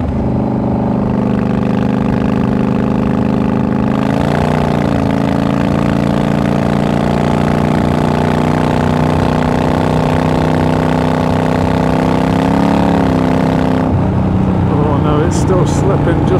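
A Yamaha motorcycle engine with a slipping clutch runs steadily nearby, holding a droning hum that rises and shifts in pitch partway through; a voice talks over it.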